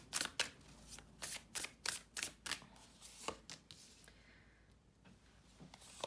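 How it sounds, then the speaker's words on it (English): A deck of tarot cards being shuffled by hand, a rapid run of crisp riffling bursts close by, loosening into softer scattered flicks toward the end. "So let me shuffle these."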